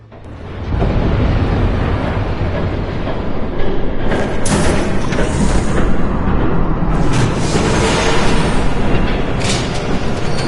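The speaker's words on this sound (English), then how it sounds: "There's a train coming." A train thunders past in the Batman Telltale video game, a loud, close, continuous rumble and roar with rattling bursts that lasts the whole stretch without speech.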